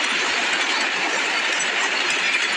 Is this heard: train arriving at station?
yes